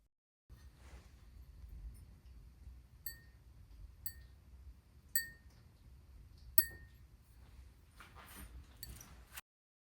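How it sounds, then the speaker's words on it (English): Delicate, scattered pings and tiny crackles from ceramic ice glaze cooling after a kiln firing, sharp isolated clinks spaced seconds apart over a quiet background, bunching into quicker ticks near the end. "coming up here is the actual kiln ice glaze. So take a moment and listen to how cool that sounds and how pretty it is."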